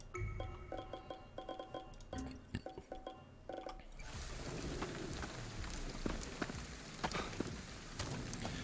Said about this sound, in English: the rain needs to be toned back in terms of its look